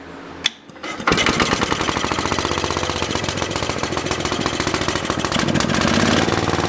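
A Universal portable generator engine, cold-started after sitting five years with the choke on, fires up and runs steadily with a loud, rapid, even chugging beat close by, with no talk over it.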